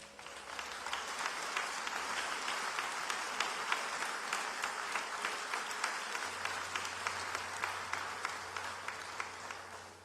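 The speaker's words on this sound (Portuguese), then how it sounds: "Se você pode, aplauda Jesus." A church congregation applauds steadily, a dense wash of many hands clapping at a moderate distance, sustained and fairly soft without speech over it.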